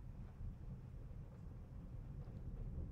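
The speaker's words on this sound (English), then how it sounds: "That storm is getting pretty bad." Storm outside an indoor room, a steady low rumble of wind and distant thunder, faint and continuous with no sharp crashes.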